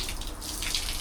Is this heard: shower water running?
yes